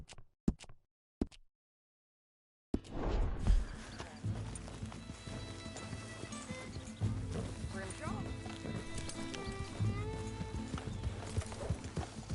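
A few sharp clicks, a short silence, then steady hoofbeats clip-clop along under game music in Red Dead Redemption 2, with a horse whinnying and snorting early on.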